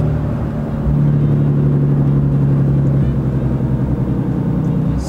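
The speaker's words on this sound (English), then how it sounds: "Exhaust braking kicks in, slows the truck down around the bend." A first-generation truck coasting with its exhaust brake engaged, giving a steady, loud low rumble and drone that holds evenly around a bend, no throttle bursts.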